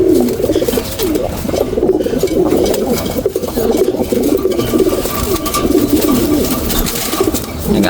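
Pigeons or doves coo continuously and close by, their soft rolling calls overlapping in a steady low murmur.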